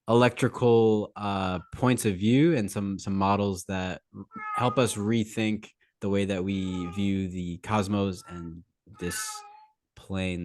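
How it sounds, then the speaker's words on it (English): A pet cat meows repeatedly in rising, wavering calls close to the microphone, mixed in with a person speaking. "I apologize if you hear my cat meowing in the background"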